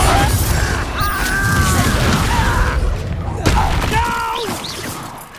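Confringo spell blasts in Hogwarts Legacy, a fantasy video game, go off as a dense stream of booming, crackling impacts over a loud, sustained battle mix, with a character's voice shouting over the chaos.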